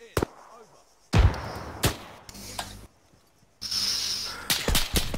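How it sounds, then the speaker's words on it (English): Gunfire during a firefight, a few sharp separate shots and loud bursts with gaps of quiet between them, close and harsh with no talk. "Taking fire!"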